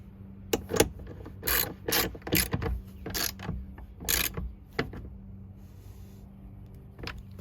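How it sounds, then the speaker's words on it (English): Ratchet strap being tightened in the cargo tray of a 5th Gen Toyota 4Runner: a series of sharp, close ratcheting clicks and pawl snaps in irregular bursts, alone with no talk. "I'm going to fish the strap underneath, and I'll just tighten this back up."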